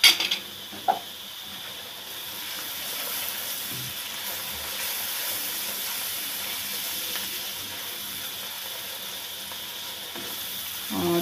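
Green chillies and ground black pepper frying with onions in a pan produce a steady, bright sizzle and hiss, with a few utensil knocks near the start and end, close and continuous.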